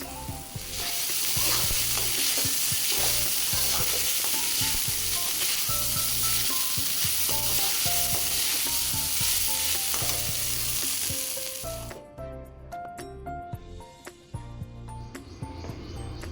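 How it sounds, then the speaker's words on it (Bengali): Fried rice with red, yellow and green capsicum being stir-fried, with a loud, steady sizzle and scraping stir strokes that suddenly drop away near the end, leaving quieter clinks. "আর এখানে তৈরি করছি ফ্রাইড রাইস"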